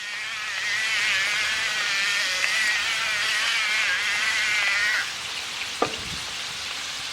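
Shrimp with seasoning fry in a hot pan, a steady close hiss and sizzle running throughout while being stirred and flipped, with a brief clatter of the utensil near the end and no talking.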